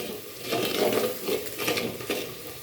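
Chicken pieces dropped into tomato puree in a pan, sizzling and frying while being stirred, with bursts of scraping and hissing in an uneven rhythm, close and moderately loud, no talk.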